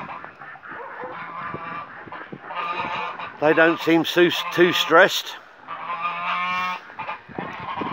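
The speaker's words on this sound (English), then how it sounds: "There's Goosey, Goosey, Goosey." Geese honking loudly in a burst of repeated calls on a snowy morning, close by, with other bird sounds around and a person talking before and after the honks.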